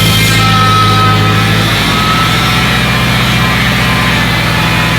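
A Honda K24 engine idles steadily and loudly, a constant mechanical hum with a faint whine attributed to the oil pump running throughout, no voices.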